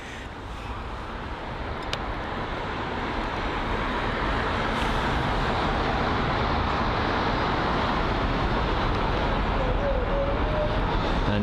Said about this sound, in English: we've got the Aer Lingus A320neo, and that will be arriving from Dublin on its 47-minute long journey